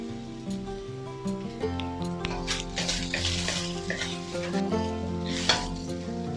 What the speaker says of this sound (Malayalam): ഇത് നല്ലപോലെ ഒന്ന് ഇളക്കി യോജിപ്പിക്കാം